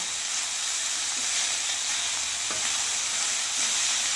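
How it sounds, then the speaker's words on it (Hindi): Radish and fenugreek leaves stir-fry in a pan with a constant hissing sizzle, steady and close, broken by a couple of faint utensil clicks and no talking. "यानी इसको फ्राई कर लेंगे। तो मिक्स करते हैं मूली और मेथी को।"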